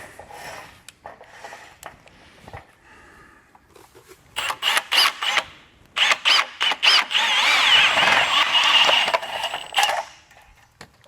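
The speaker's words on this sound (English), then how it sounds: "go ahead and drill these." A power drill bores holes for mounting CREE linear light fixtures in a garage, running in several short bursts and then one longer steady run at close range.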